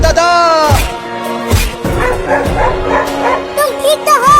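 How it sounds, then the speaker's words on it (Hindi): Dog barking near and loud in repeated bursts with yips and whimpers, people talking over it in a comic household scene. "देखो एक और कुत्ता भी जा रहा है तुम्हें काटने के लिए"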